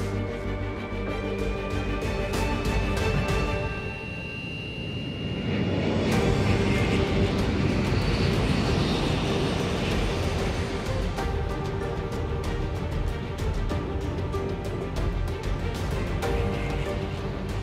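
A Comet jet airliner flying, a steady broad roar with a rising whine that swells louder partway through and holds at full strength.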